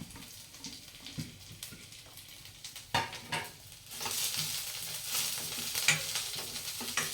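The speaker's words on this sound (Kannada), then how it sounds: "ಎಲ್ಲ ಒಟ್ಟಿಗೆ ಆ್ಯಡ್ ಮಾಡು ನೀಟಾಗೆ ಹುರಿಬೇಕು ಈಗ ನುಗ್ಗೆ ಸೊಪ್ಪನ್ನ" Drumstick leaves fry and get stirred in a pan for an egg stir-fry, a steady sizzle that swells louder partway through, with scraping stirs over it.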